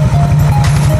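A Yamaha Aerox V1 scooter engine runs just after starting, following cleaning of its dirty magneto, giving a loud, close, steady low idle drone with a fast even pulse.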